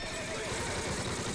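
Horses neigh and whinny loudly amid a dense, chaotic war-film battle scene, with hoof clatter and constant background roar throughout the short burst.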